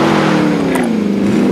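A car driven in the video game Call of Duty Warzone produces a loud, steady engine drone with a slight pitch shift, close and alone.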